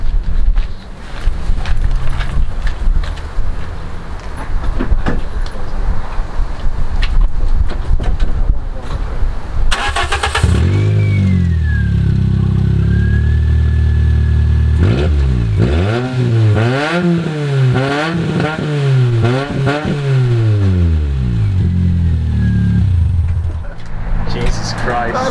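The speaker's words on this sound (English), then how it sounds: "Shall we start it up with no exhaust?" A Toyota Yaris with a straight-piped exhaust and cutout valve fires up, then idles and is revved repeatedly in loud, rising and falling sweeps, with people talking over the start.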